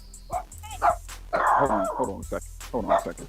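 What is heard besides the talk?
neighbour's dog barking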